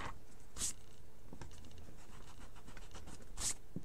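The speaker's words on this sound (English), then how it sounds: "I'm going to go ahead and erase this really quick" An eraser rubs over part of a pencil sketch of a giant resin bee, producing soft, close scratchy strokes in irregular bursts with two brighter brushing sweeps.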